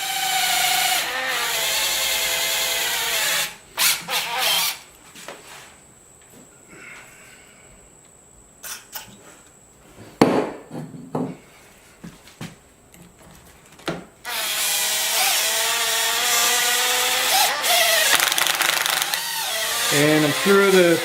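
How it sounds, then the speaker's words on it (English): Cordless impact driver runs in long loud whirring bursts at the start and again near the end while fastening bolts on a cheap rigid mountain bike fork, with quieter tool handling, clicks and rustling between the bursts. "Yeah, I'm using an impact."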